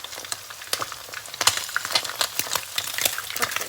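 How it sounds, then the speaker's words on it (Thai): Pieces of pla salid fish frying in hot oil, a steady close crackle and sizzle broken by sharp spattering pops and light utensil clicks, with no voices. "ปลาเราก็ทอดได้ สักประมาณหนึ่งแล้วนะคะ"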